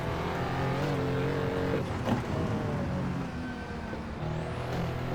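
A RUF Yellowbird in Assetto Corsa laps the Nordschleife in VR, its engine droning and revving steadily with pitch rising and falling through gear changes and corners.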